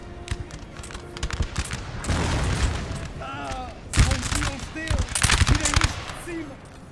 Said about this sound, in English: I think that unit over there is firing at will.